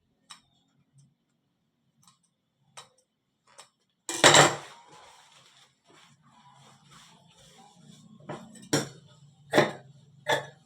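Scissors cutting pant fabric during a trouser alteration, a few faint snips early, then a louder rustling cut and several sharp crisp snips toward the end, close and alone without talk.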